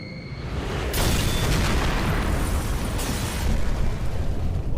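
Gas tanks blowing up in the video game Max Payne 3, a loud booming blast around the one-second mark and another near three seconds, rolling into continuous roaring explosion noise with no talking.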